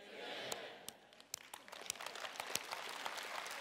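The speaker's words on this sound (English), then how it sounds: "If that's the best clap you can give" Sparse, uneven clapping from a church congregation, a few separate sharp claps scattered over faint background murmur, quiet and thin rather than a full ovation.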